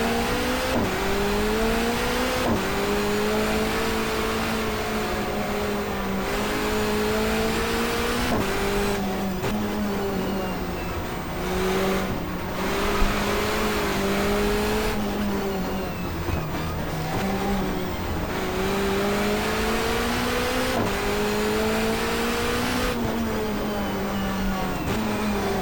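A touring car engine in the GTR2 racing game, during a 1994 Asia-Pacific Touring Car Championship race, drones loudly and steadily, its pitch climbing and dropping with each gear change, with no talking.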